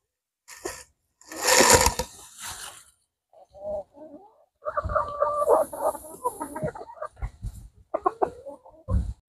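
Chickens in a composting chicken yard cluck and squawk in irregular bursts, fairly close, with short pauses between calls.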